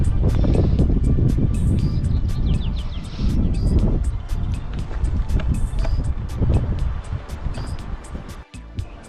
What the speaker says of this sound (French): Vous allez entendre beaucoup de vent.